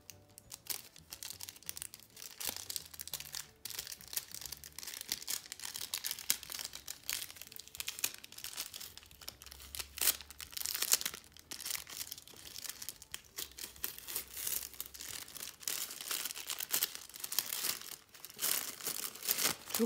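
Paper wrapping on an advent calendar gift is crinkled and torn open close up, a quiet, continuous rustling with irregular crackles and small tears, no talking over it.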